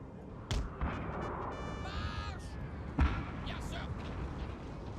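Artillery guns firing in Napoleon Total War, heavy booms at a distance, one sharp blast near the start and another later, over a steady battlefield din with a voice talking.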